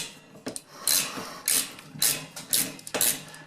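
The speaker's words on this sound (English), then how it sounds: "I'm doing the 3rd one here, right in through the drywall and into the stud behind it, using a socket driver." Socket driver turning a screw through drywall into a wooden stud, a series of short rasping, grinding bursts at a steady rhythm of roughly two per second, close and moderately loud, with short pauses between turns.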